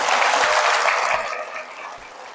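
Church congregation claps together in a burst of thanks at a Catholic charismatic prayer gathering, dense and loud at first, then thinning and tapering off over a couple of seconds.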